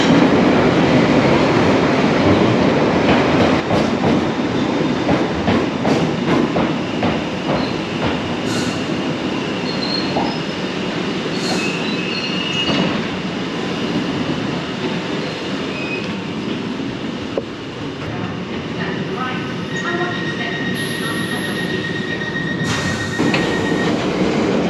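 A London Underground train pulls into the platform with a loud, steady rumble of wheels and carriages, clattering rail joints and a high squeal of wheels on track that fills the whole stretch.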